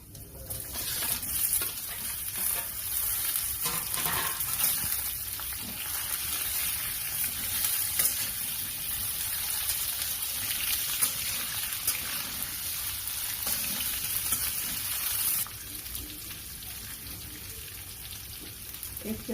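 Raw mango pieces sizzle in a frying pan with mustard seeds and cumin, giving a continuous bright hiss broken by faint stirring scrapes.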